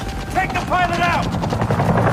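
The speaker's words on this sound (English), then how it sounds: "This is the police! Land your helicopter now!" Helicopter rotor chopping from an action video game demo at a gaming expo, steady and loud throughout, with shouted game dialogue over it.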